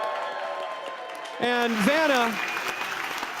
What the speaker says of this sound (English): Can we get a round of applause for Aaron?